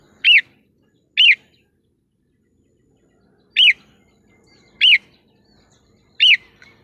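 Five short, bright chirps from a crested bulbul in the forest at morning ring out alone against near silence, two close together, a pause, then three more spaced evenly.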